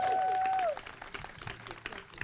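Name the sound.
audience applause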